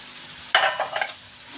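Mashed potatoes are stirred into a chicken spring roll filling, giving a short burst of soft, wet scraping and mixing, close and moderately loud, then trailing off into quiet.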